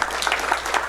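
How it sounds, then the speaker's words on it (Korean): An audience at a book-talk lecture welcomes the speaker with a brief, dense burst of steady applause, many hands clapping together. "큰 환영의 박수로 모시도록 하겠습니다"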